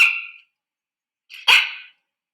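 A dog gives two sharp, loud barks close by, separated by about a second of silence.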